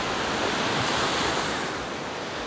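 Surf rolls in on a shoreline under a rising tide, a continuous broad roar of breaking water with wind buffeting the microphone, steady and near with a slight easing toward the end.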